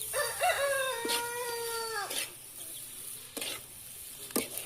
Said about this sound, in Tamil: நிஷா என்ன இன்னும் இவ்வளோ சாதத்தையும் போட்டு ஒன்றா கிளறணும்